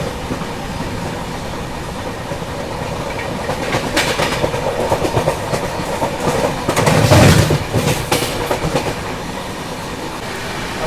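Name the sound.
diesel locomotive intercity train passing Dhupguri station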